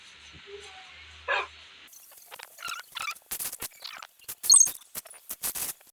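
A dog found at night in a village barks several times in sharp, close bursts, with yips and soft whimpers between them.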